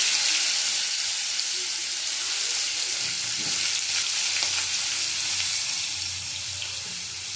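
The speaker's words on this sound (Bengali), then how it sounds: "আলুগুলি আমি ভেজে তুলে নেব" Potatoes frying in hot oil with nigella seeds, a steady broadband sizzle that holds evenly throughout, close and fairly loud, with faint scraping of a utensil and no talking.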